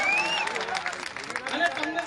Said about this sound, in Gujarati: તાળીઓ મારો, તાળીઓ